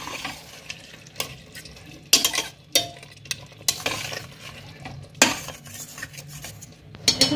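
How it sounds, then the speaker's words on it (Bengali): Mutton is stir-fried slowly in a pan over a medium flame for curry, with a steady low sizzle under repeated scraping and clanking of a spatula against the pan. "মিডিয়াম ফ্লেমে আমি এবার মটনটাকে ধীরে ধীরে কষতে থাকবো।"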